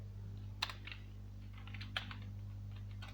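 Computer keyboard typing while writing a C++ for loop program, a few faint clustered keystrokes and clicks over a low steady electrical hum.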